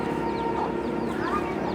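Backyard chickens cluck close by in a continuous, overlapping chatter over a steady low background.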